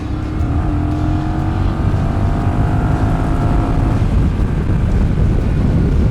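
A Honda Rebel 1100 DCT motorcycle downshifts and accelerates, a loud engine roar with rising tones heavily mixed with rushing wind noise, continuous throughout.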